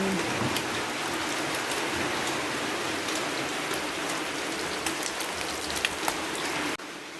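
Heavy rain pours down in a steady, loud, close hiss of drops striking surfaces, with no voices, the downpour softening slightly at the very end.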